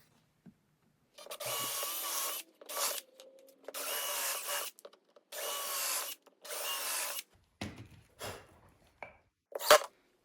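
A power drill whirs in several short bursts of a few seconds each, boring into wood, with brief pauses and small clunks between.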